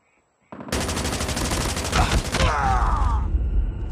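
Rapid, sustained bursts of Chopper LMG gunfire in a Call of Duty-style Domination match on the Raid map, loud and close, starting abruptly after a brief quiet and rattling continuously to the end.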